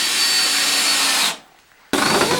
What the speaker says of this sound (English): I need to drill, but I'm going to hammer a little